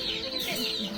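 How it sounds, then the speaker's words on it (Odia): Chickens clucking at a farm house with a mango garden, a short close burst of soft clucks over steady background noise. "ଆମେ ଆସୁଛୁ ଏଠି କେତେ ପ୍ରକାରର କୁକୁଡ଼ା ଦେଖୁଛୁ କେତେ କୁନି କୁନି କୁକୁଡ଼ା"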